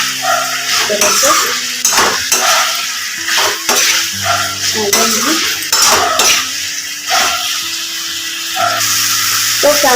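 Masala with drumstick vegetable roasts in a pan for a village-style sabzi, with a steady sizzle and repeated scraping, clinking strokes of a spoon stirring, under someone talking.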